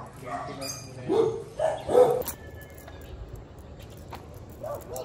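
A dog barks a few times nearby, short harmonic yelps, with soft voices and background noise around them.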